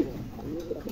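A short, low coo from an Indonesian pigeon, one of a breeding pair sitting on eggs, heard close and fairly soft over a faint background murmur.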